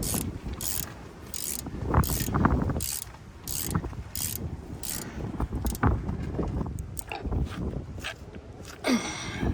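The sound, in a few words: tightening bolts on GMC Sierra front end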